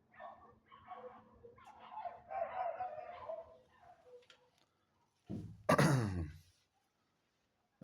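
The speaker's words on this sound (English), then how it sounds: "the dogs are going off" Dogs bark outdoors in a sudden loud burst of several barks, preceded by a quieter stretch of murmuring and distant sounds.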